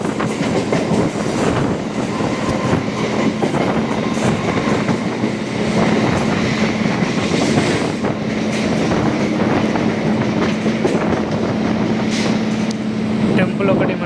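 An MMTS local train runs fast between Secunderabad and Kacheguda in Hyderabad, a steady near rumble with rhythmic wheel clatter and rattling carriages throughout, while someone talks over it.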